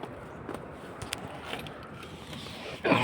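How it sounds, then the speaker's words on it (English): Mechanical clicking and faint creaks as a door lock is fitted into a Hyundai/Kia car door, small irregular ticks over a low background, with a louder rustle at the end. "Just put in the door lock."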